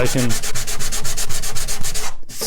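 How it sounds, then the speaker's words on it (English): Rapid, steady back-and-forth scratching of hand sanding a paua shell purfling inlay, with strokes repeating in an even rhythm up close, then a brief pause near the end. "I can notice it quicker when I'm sanding by hand"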